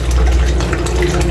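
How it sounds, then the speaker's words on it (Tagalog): Water trickling steadily from a pipe into a concrete fish pond, a continuous splashing and gurgling with no voices. "So nasa gilid lang ang tulo ng tubig"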